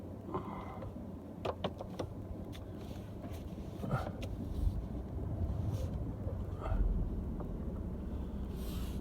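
Low engine rumble of a four-wheel-drive truck driving across a bumpy pasture, steady and moderately faint with wind buffeting and occasional light rattles and clicks.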